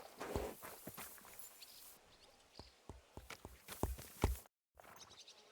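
Horse hooves walking at a steady pace in the Kingdom Come Deliverance 2 video game, distinct close clops over quiet ambience, with a brief silent gap near the end.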